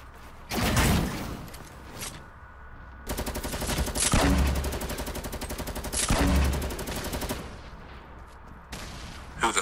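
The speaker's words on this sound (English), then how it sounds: "Who the fuck is shooting me?" Bursts of automatic gunfire in the Fortnite Battle Royale video game, several loud sustained rapid volleys separated by short gaps, with sharp single shots at the start and end.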